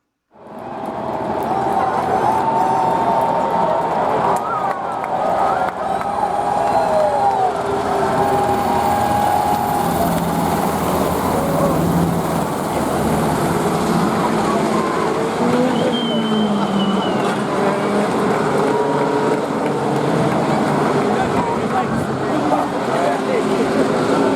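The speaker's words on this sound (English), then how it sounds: "two Black Hawk helicopters pacing or flying right over the field on the first parade lap" Two Black Hawk helicopters fly low over the Indy 500 field during the first parade lap, giving a steady, loud rotor and engine drone that blends with crowd noise and other sounds for the whole stretch.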